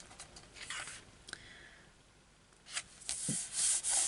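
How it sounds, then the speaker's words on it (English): A hand tool is rubbed firmly back and forth over glued paper pages of an 8x8 gatefold trifold mini album, soft close scraping strokes with brief pauses, louder rubbing toward the end. "just giving that a good burnish all the way over to make sure"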